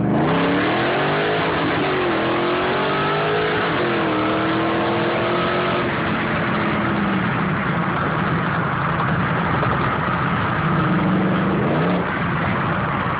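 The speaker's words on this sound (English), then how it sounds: "SRT8 Jeep Grand Cherokee supercharger" Supercharged Jeep Grand Cherokee SRT8 accelerating hard from inside, engine pitch climbing through several gears with drops at each shift, loud, close and continuous with no talk.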